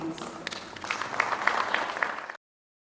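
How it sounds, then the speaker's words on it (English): An audience at an evening publishing conference gives a round of applause, a dense crowd of clapping that swells and holds before cutting off abruptly. "Can we give a great round of applause"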